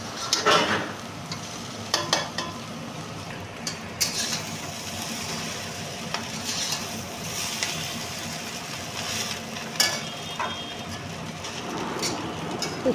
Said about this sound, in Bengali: ওর মধ্যে বাদাম আর ধনে পাতা দিয়ে একটু ভেজে টেজে নামিয়ে নেব